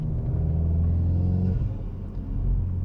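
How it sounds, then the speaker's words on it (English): A car in sport mode rumbles steadily with a deep, close engine drone as the throttle is released, holding low and loud without speech. "right when you let off the throttle, it kind of does this really nice kick"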